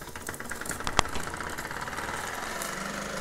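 A model steam engine runs steadily once its throttle is released, a continuous mechanical chugging and whirring with a sharp click near the start, heard close and alone.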